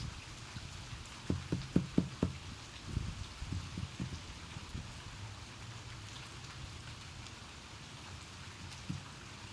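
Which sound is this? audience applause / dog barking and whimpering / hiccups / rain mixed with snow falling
rain mixed with snow falling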